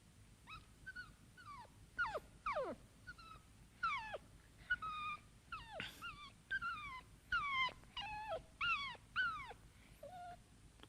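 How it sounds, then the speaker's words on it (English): A dog in an anime show whimpers and whines in a steady series of short, high, wavering cries, close and clear against a faint background hum, with no talk over it. "That dog is fucking adorable."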